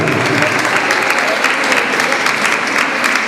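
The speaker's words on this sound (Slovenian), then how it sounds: "Dajmo jedan velik aplauz." Loud, dense applause from a school dance show audience in Slovenske Konjice, continuous clapping filling the whole stretch with no gaps.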